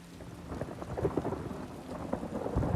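Rain and rolling thunder in the video game The Elder Scrolls Online, a continuous moderately loud downpour with low rumbles building and fading throughout, no voices.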